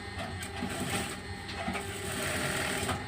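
An electric sewing machine stitches a border onto a blouse lining in a steady, close, continuous whirring chatter, heard alone without talk.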